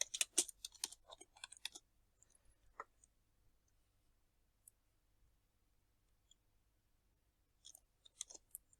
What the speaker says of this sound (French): On tape à la calculatrice et on retombe sur 160.